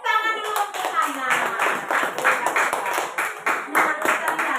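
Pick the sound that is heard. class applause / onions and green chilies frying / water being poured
class applause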